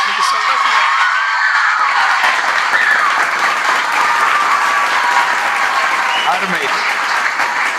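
Audience at a Tamil pattimandram debate for Kamarajar's birthday breaks into loud, close applause that swells quickly and holds steady, with a stray voice or two under the clapping.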